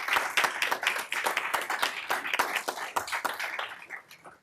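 Applause at a city council meeting for members' families and friends, a brief burst of steady clapping from a room of people.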